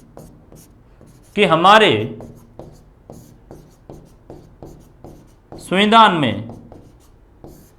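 Handwritten notes are scratched out steadily with a pen, making close, rhythmic rubbing strokes, while someone speaks in Hindi over the writing in two short bursts.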